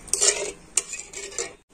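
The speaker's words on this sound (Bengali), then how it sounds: "আর এখন আমি নাড়াচাড়া করে সুন্দর একটা চিটচিটে শিরা তৈরি করে নেব।" Spoon stirring sugar syrup with two cracked cardamom pods in a metal kadai, giving a few short metallic scrapes and clinks against the pan, close and fairly loud, with no talking.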